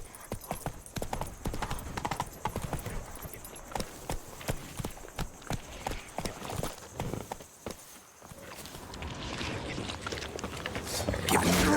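Roach the horse trotting in The Witcher 3: Wild Hunt, steady rhythmic hoofbeats close by for most of the stretch, giving way to a louder wash of ambient noise near the end.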